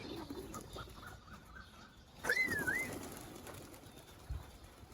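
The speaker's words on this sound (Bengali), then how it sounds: "আর এই এলো কবুতর বাড়ির" A pigeon arrives at a rural homestead, heard as a brief nearby call with a sudden burst of activity over a quiet outdoor background, followed by a few faint sounds.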